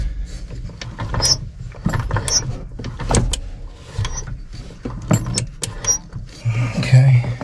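Wrench tightening a nut on a Case IH 75C tractor, with repeated close metallic clicks and ratcheting taps in an irregular rhythm over low background rumble.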